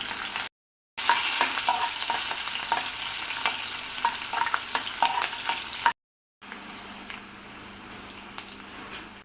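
Garlic, ginger and sliced green chili frying in oil with already-popped mustard seeds for mango pickle, a steady close sizzle with light stirring scrapes, broken by two short silent gaps.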